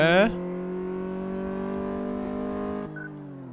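A car in Car Mechanic Simulator 2014 revs up from inside the cabin, its engine note holding a steady, rising harmonic drone for a few seconds before easing off, with a brief burst of sound at the start.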